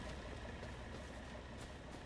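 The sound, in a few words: tractor engine idling, from the video game Farming Simulator 25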